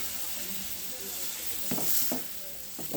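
A tomato, onion and garlic paste for oil brinjal curry sizzles quietly in hot oil, with a steady hiss under a few soft stirring scrapes late on. No voices are heard.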